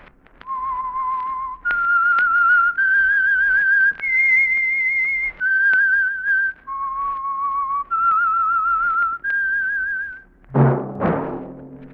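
A clear, solo whistled melody of sustained notes stepping up and down in pitch, the theme signal of an old radio program, ending with a short burst of noise.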